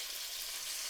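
Rohu fish frying in hot oil gives a steady, close sizzle with a fine, even crackle and no voices over it.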